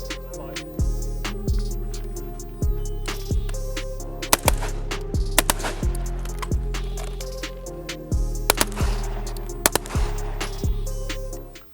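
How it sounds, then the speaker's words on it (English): Rifle and pistol shots fired during a close quarter marksmanship qualification shoot, a dozen or more sharp reports in quick pairs and short strings over a steady low drone, fairly close, with no talk. "the next shoot is going to be 2 rounds rifle, transition 2 rounds pistol from the 20 meter mark"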